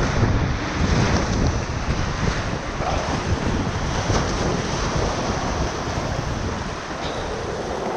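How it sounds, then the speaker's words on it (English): Whitewater on the Middle Ocoee River rapids at Table Saw roars loud and constant, breaking waves mixed with heavy wind buffeting on the microphone throughout. "We make our move to the right here, through the breaking wave, around this breaking wave"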